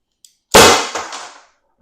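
A Byrna less-lethal launcher fires a single loud, sharp shot close by, a strong pop with a short decaying tail, preceded by a faint click.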